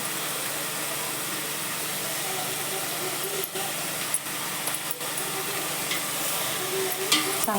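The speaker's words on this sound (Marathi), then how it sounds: "चांगलं परतू देते मी चांगलं तेलात परतून द्यायचं" Ground coriander-cumin powder and turmeric sizzle in hot oil for a spicy mutton curry, a steady loud frying hiss held close throughout, broken by a few brief scrapes of stirring.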